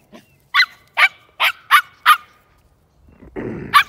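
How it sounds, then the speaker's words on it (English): A young herding dog in training barks while working goats toward a new fence: about six sharp, evenly spaced barks close by, then a brief rustling scuffle before one more bark. "That's my herd dog in training."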